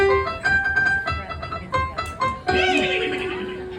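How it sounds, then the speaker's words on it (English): A horse neighs during a stage performance in a theatre setting, several short whinnying calls rising and falling, then a longer, louder drawn-out whinny near the end, close and clear with no talk. "That's Maximus, a horse of the royal guard, and he's after me."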